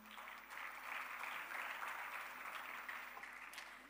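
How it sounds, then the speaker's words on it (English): Sustained audience applause fills a hall at the opening ceremony of the 10th Ajanta Ellora International Film Festival, a dense, even clapping that continues throughout without voices. "A huge round of applause for our festival signature film."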